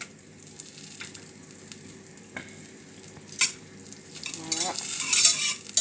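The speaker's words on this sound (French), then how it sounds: "je mets à feu doux pour qu'en fait le beurre fonde sans brûler" Butter melts in a pan over low heat, giving a faint, steady sizzle with soft stirring scrapes and a few light utensil clinks near the end, heard close and quiet.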